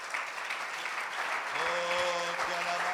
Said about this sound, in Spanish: Vamos a darle un fuerte aplauso a Cristo Jesús.